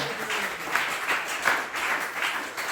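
A church congregation claps for the Lord in a rhythmic, pulsing wave of hands, the applause swelling and easing roughly every half second in a reverberant hall.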